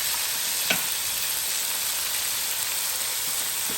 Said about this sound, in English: I'm gonna put this steak in here just like that. Just let that cook like that.